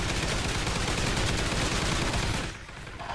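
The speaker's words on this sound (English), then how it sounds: "the machine gun got me with the shield?" Dense, continuous machine gun fire rattles in Call of Duty Ghosts, loud and close, then cuts off abruptly into quieter ambience near the end.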